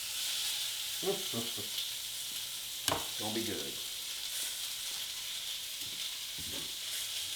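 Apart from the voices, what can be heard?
sizzling in a frying pan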